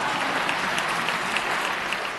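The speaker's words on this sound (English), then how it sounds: "You can applaud that, I know you" An audience at a State of the State speech breaks into applause, a dense, even wash of clapping from a large crowd that holds steady throughout.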